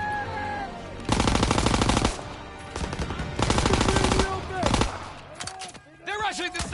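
Rapid, sustained machine gun bursts in the World War II shooter Call of Duty WWII, loud and close, broken by short pauses and whistling, whining sounds, with shouted voices over the gunfire.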